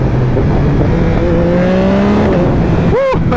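A 2021 Yamaha MT-09 motorcycle downshifts and accelerates, loud and close, with revs climbing in steady steps and a sharp blip of the throttle near the end, heard alone.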